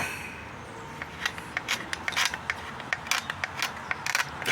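Screws scraping and gouging a Jason Voorhees mask, a series of short gritty scratches in an uneven rhythm, close and fairly soft over a faint background hiss.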